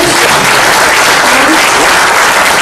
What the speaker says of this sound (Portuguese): uma salva de palmas para os nossos palestrantes